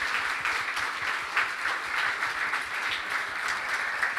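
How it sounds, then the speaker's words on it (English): Audience at a New Year's community event giving a sustained round of applause, dense overlapping claps held at an even level for several seconds with no speech. "round of applause, please, for that"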